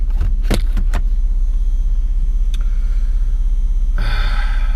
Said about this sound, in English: at least I got the car running without this